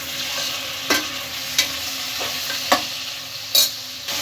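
Chopped tomatoes stir-frying in hot oil for a village-style egg palav, a loud continuous sizzle with a few evenly spaced scraping spatula strokes, no voices.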